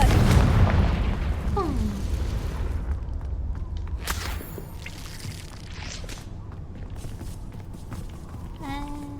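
A Confringo fire spell going off in Hogwarts Legacy, a loud booming blast that fades into a rumbling tail with scattered crackles and a short chime near the end.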